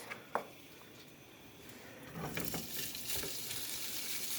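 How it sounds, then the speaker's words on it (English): Tofu and onions frying in olive oil, starting with a quiet pan and a small clatter, then swelling into a steady, close sizzle with stirring. "gonna fry the tofu and onions"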